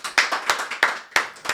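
A handful of people clap for a guest arriving on a hockey talk show, a sparse, close set of about six uneven hand claps with slight gaps between them and no talking.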